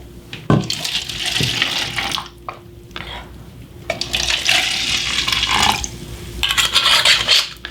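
Wine poured from a bottle into a glass at a casual sit-down interview, a steady liquid splash and gurgle running in bursts over most of the stretch, fairly close, with no talk over it.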